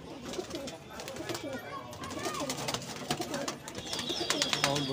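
Pigeons coo and flutter close by amid rustling and shuffling, with a voice talking in the background.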